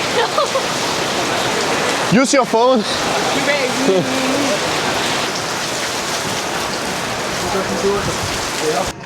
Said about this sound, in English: that was a heavy rain